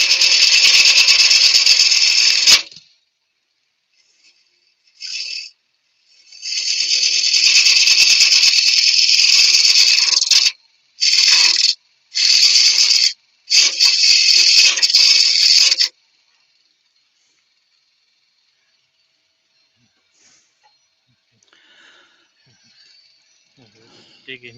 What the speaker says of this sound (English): Dig in there with the round scraper.